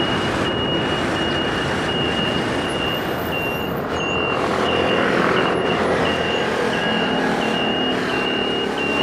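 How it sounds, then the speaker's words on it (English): Steady high-pitched reversing beeps from two buses in Taipei repeat over a loud rumbling engine, the second beeping tone layered in from the other bus. "2 beeping buses back to back"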